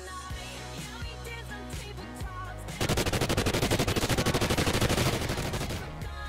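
Shooter video game gunfire sounds as a rapid, loud automatic burst that runs for about two and a half seconds over game music, then cuts off.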